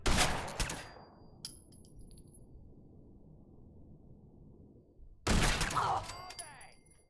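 Rapid gunfire from a video game gun, with two loud bursts of quick repeated shots at the start and again near the end, separated by a quieter stretch of low rumbling background.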